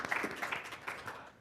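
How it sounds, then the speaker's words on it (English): An audience at a governing board candidate forum claps for the panel, a steady patter of hands at moderate volume throughout, with no voices. "If you'd be so kind to give our august panel a round of applause for their time, talent, and contributions"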